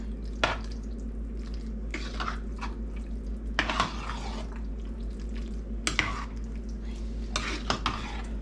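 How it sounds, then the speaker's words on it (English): A creamy baked mac and cheese mixture is stirred by hand, with soft wet scraping and squelching strokes and a few sharper clinks from the utensil against the bowl, steady and close, with no talk. "just mix this all through"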